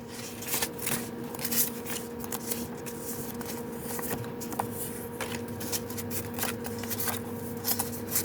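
Sheets of scrapbooking paper rustle and shuffle as they are handled during mail opening, a steady papery crinkle with brief sharper flicks and slides throughout, close and moderately loud, without speech.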